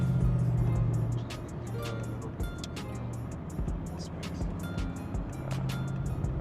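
A Mercedes-AMG S63 with the windows down gives a low, steady engine drone that swells under acceleration. Road and wind noise run beneath it, along with a few brief clicks, heard from inside the cabin at moderate loudness.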